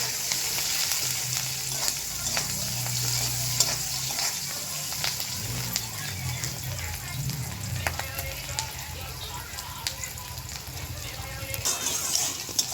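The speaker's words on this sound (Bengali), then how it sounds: "একটু হলুদ দেবো, অল্প করে একটু নুন দেবো, তাহলে পেঁয়াজটা তাড়াতাড়ি ভাজা হয়ে যাবে" Onions frying in a pan with turmeric and salt, a steady close sizzle with scattered spatula stirs and scrapes running throughout.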